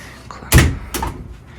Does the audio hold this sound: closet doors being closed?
yes